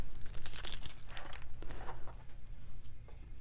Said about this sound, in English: Gonna lift up the tape to reveal our cutie tootie.